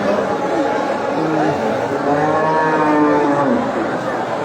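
Several cattle moo loudly and close by at a livestock market, long drawn-out calls overlapping amid the murmur of a crowd talking in the background.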